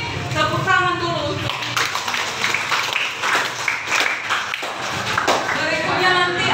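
Students in a classroom clap together in a burst of uneven applause alongside a teacher's voice. Taps and chatter continue as the clapping rises and fades over several seconds.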